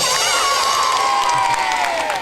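A studio audience of children at a family TV show erupts in loud, sustained cheering and shrill shouting, close and dense for the whole stretch.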